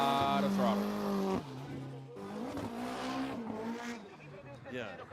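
A drift car at full throttle on Ebisu Circuit in Fukushima during a qualifying run, its engine screaming at high revs with tire squeal, loud and continuous, as a commentator talks over it.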